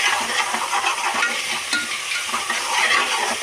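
Ginger garlic paste frying in a pan while being stirred, giving a steady close sizzle and hiss with soft scraping of the spoon throughout, no voices.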